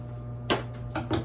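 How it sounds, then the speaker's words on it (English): Three quick hissing bursts of cooking spray into a 9x13 baking pan, the first alone and the last two close together, fairly near with no talking. "make sure you spray well, especially your corners"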